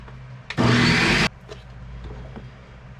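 A kitchen blender whirs loudly for about a second as it blends water into a mixture, starting abruptly and cutting off, with quieter handling noises around it.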